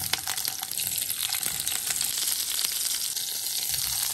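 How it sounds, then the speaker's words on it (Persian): Tehrani lule kebab fries in oil in a pan, giving a steady, close sizzle with crackling pops all through and no talk. "تابه رو میذاریم، روغن میریزیم و کباب رو میذاریم تا تفت بخوره"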